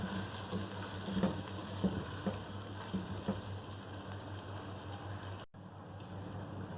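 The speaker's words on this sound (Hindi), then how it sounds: "इन सबको डाल के अच्छी तरह से भूनेंगे थोड़ा" Salt and crushed red chili sautéing in a pan for chana pulao, giving a steady soft sizzle with a few light stirring taps, with a brief dropout near the end.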